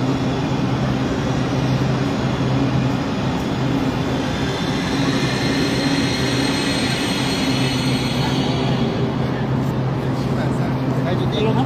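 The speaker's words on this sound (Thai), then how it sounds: "ให้ดูความยาวขบวนนะ" A long passenger train in Laos rumbles steadily past, a continuous loud roll of wheels and carriages with a faint high squeal near the end.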